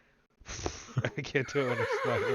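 A person's voice imitates a horse whinny during a Curse of Strahd tabletop session, rising into a wavering, neigh-like squeal that follows a quick burst of speech.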